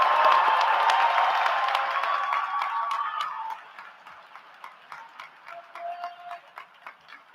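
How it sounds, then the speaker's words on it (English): An audience at a graduation ceremony applauds the graduating class, with dense sustained clapping and cheering that thins into scattered claps before dying out. "all of our friends and family to give them a huge round of applause so they can feel all the support"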